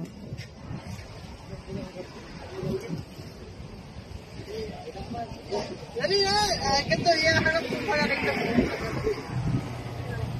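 Strong wind buffets the microphone in a steady low roar, with people talking nearby and the gusts growing louder partway through.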